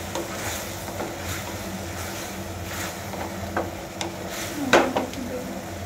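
Loitta dried fish fries in a pan while being stirred, giving a continuous sizzle with scraping strokes of the utensil and a louder clatter near the end, without any talk.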